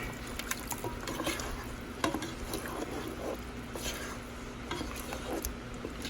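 Mutton biryani being stirred in a pot just after milk is added, a steady soft scraping and patter of spoon through the rice with a low sizzle, continuous at moderate level with a few sharper clinks against the pot.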